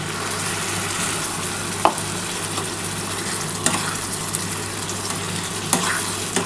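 Spice water added to masala frying in a pan for a bhola fish curry with potato, onion and tomato: a steady, close sizzle and bubbling with a few sharp stirring knocks against the pan.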